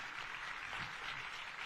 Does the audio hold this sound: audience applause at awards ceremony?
yes